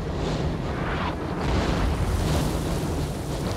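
Sustained artillery fire in a Napoleonic strategy game rolls on as a dense, rumbling wash of distant booms, steady and fairly loud with no talk over it.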